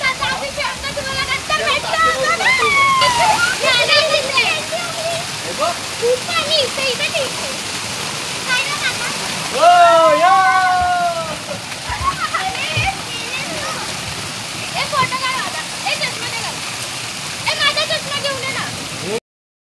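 Flowing water, risen higher at a family villa outing, rushes and splashes in a steady wash while children and adults talk and call out over it.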